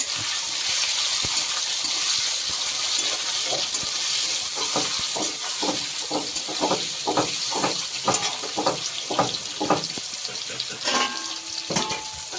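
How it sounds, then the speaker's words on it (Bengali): Onions frying in oil until reddish for a potato and poppy-seed dish, a loud close sizzle overlaid by a quick regular series of spatula scrapes against the pan. "এবারে পেঁয়াজগুলোকে একটু লাল লাল করে ভেজে নেব"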